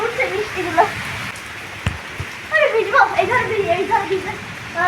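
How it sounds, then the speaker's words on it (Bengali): Steady storm rain pours down as a soft, continuous wash of noise, with people talking over it and a sharp knock partway through. "বৃষ্টি শুরু হয়ে গেছে অলরেডি"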